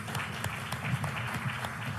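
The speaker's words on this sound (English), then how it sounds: "Let's give them a round of applause." An audience at a business forum applauds a panel, a steady wash of clapping at moderate volume with a low murmur of voices underneath.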